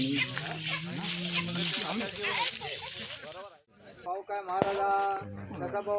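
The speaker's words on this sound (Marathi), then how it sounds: "कोंबडे" Roosters and hens at a village temple puja in Konkan, clucking and crowing loudly and close by in repeated bursts, with a brief lull midway and a busy outdoor background.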